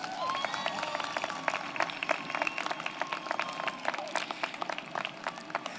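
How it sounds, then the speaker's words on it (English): A crowd applauds at the Bel Air High School 2021 graduation ceremony, dense clapping with sharp individual claps standing out and faint voices or cheers mixed in. "Let's give Olivia a round of applause"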